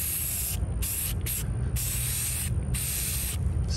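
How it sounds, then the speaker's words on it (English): Aerosol spray paint hissing onto a wooden speaker baffle board, coating it black, in several steady bursts with short pauses between them, close and fairly loud. "So I'm gonna spray paint this real quick."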